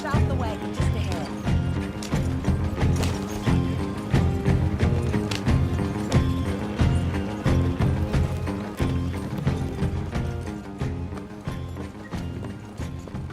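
A horse-drawn wagon rolls along in Red Dead Redemption 2, with steady rhythmic clip-clop of hooves and the creak and rattle of wooden wheels and harness throughout.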